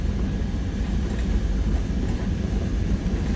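Steady low rumble of a train running through an undersea tunnel, a continuous dense roar filling the interior with no clear breaks, heard from inside a carriage.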